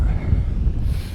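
Strong wind outdoors buffeting a field microphone, a steady low rumbling roar that fills the whole moment without letup.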